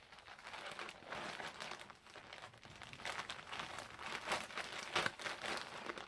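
Plastic bag crinkles and rustles continuously up close, holding knitting supplies, soft but steady with irregular bursts of crackle and no talking.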